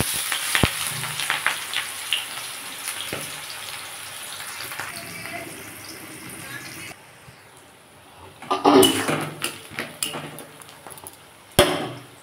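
Onion dropped into hot mustard oil, a broad crackling sizzle that runs steadily, dips briefly, then surges with fresh spitting and a few clanks of utensil against pan, close by with no voices.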